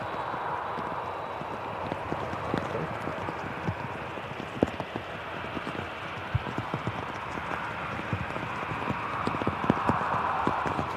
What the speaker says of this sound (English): there's nothing more relaxing than listening to rain